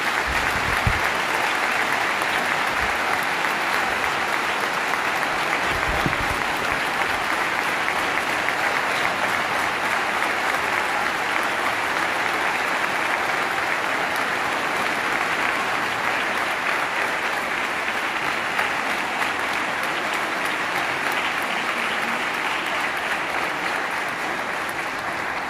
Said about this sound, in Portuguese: É mais que merecido esse efusivo aplauso.